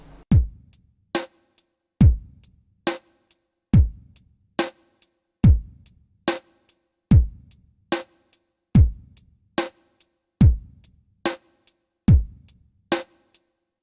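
Drum kit playing a steady repeating rhythm exercise: bass drum on the first beat, snare on the third, with hi-hat strokes between, each hit crisp and close, evenly spaced with clear dynamics and no talking.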